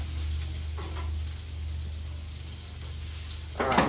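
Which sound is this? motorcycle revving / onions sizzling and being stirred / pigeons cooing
onions sizzling and being stirred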